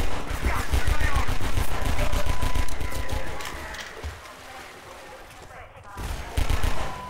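Rapid machine gun fire in Half-Life 2 co-op (Synergy), loud fast bursts that dominate at first, then fade to scattered shots and a final short burst.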